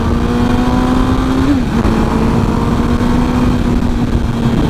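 A 2007 MV Agusta F4 1000R motorcycle engine running loud and steady as the rider opens the throttle, with a constant roar, a brief dip in pitch and strong rumble and wind noise throughout.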